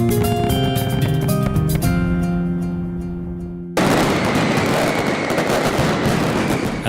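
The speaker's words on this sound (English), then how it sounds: "During the Nit del Foc, the best fireworks professionals compete in a duel of light and color." Fireworks competition at the Nit del Foc during the Fallas festival in Valencia: a dense, continuous barrage of loud crackling bursts, rising into a sudden roaring volley of overlapping explosions.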